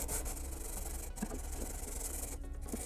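A sanding stick with coarse sandpaper scuffs a jet pack prop surface in steady, close, rasping back-and-forth strokes that continue for a few seconds.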